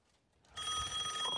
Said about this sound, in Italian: Oi, il telefono.